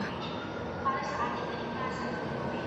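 An MRT metro train rumbles steadily through Guadalupe station, a broad continuous roar with faint screechy tones, while people talk in the background.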